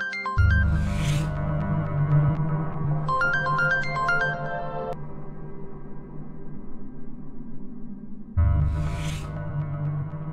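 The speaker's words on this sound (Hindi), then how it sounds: "अरसम की कॉल आ रही है।" An incoming call rings on a phone left in a kitchen, playing a melodic tone that repeats in two bursts over a sustained low hum, with a short gap before the tune resumes.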